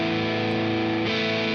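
An electric guitar through a distortion pedal in the BIAS FX app sustains a thick, buzzing, heavily saturated chord, with a slight shift about midway, alone and without talk.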